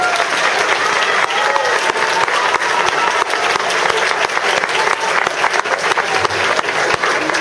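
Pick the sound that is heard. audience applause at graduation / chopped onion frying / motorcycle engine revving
audience applause at graduation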